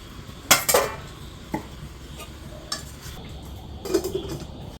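Washed chicken going into a cooking pot sets off a few sharp metallic clanks and clinks of pan and utensil, with quieter scraping between them. The hits are close and scattered, with no voices.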